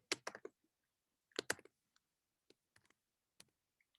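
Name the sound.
computer mouse clicking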